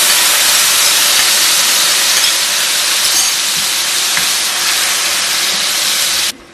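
Onion, ginger and garlic paste hits hot oil in a pan for a coconut chicken curry, giving a loud, continuous hiss of sizzling that holds steady and then cuts off abruptly near the end.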